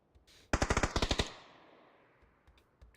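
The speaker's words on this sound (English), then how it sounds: "I can already hear gunshots." A rapid burst of about nine gunshots from the Warframe video game rings out loud and close, then a reverberant tail fades into quiet.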